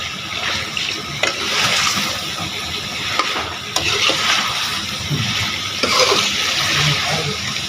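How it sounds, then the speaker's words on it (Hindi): Mutton pieces are frying in masala for korma, giving a loud, wet sizzle with bubbling and intermittent stirring scrapes and clacks throughout. "पाँच से 7 मिनट इनको मसाले में भूनेंगे।"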